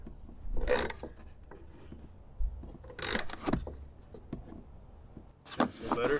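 Kit tool tightening a hitch bolt on a 2018-2021 Jeep Wrangler, with close metallic ratcheting clicks and scrapes in irregular bursts and a few louder sharp strokes.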